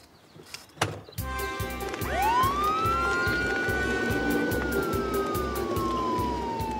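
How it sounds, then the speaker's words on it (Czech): An ambulance siren rises and wails steadily in the street after a door thud, sounding at moderate distance over a rhythmic background pulse. "A pak jela ta sanitka."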